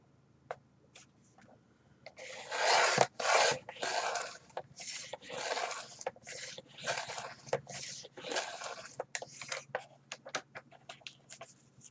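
Paper being trimmed for a handmade junk journal, a run of close rasping, rubbing cuts in short repeated strokes with brief pauses between them, moderately loud.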